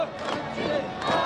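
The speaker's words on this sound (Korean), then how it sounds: "국기를 흔들며 환호했습니다" Crowd of residents in Pyongyang cheering and waving Russian flags as the Russian and North Korean leaders ride through the city, a dense, continuous roar of voices with shouted cries rising and falling.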